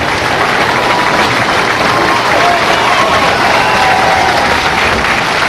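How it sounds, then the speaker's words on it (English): Applause fills the lanes at the 1995 PBA National bowling tournament, a dense, loud, continuous roar of clapping from a large crowd that holds steady throughout. "Great round of applause for both bowlers"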